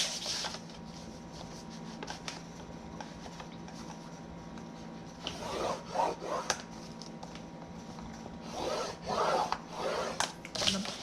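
Paper is scored for a box bottom, giving quiet scraping and rubbing strokes in short bursts over a steady low hum, close and soft, with no talking.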